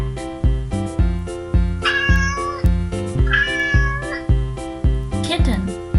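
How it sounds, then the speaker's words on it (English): A cat meows twice in clear, drawn-out calls over a steady, bouncy children's music backing with regular beats, with a brief higher squeal near the end. "Cat."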